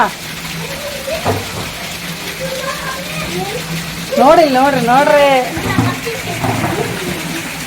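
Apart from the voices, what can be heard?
heavy rain with water pouring down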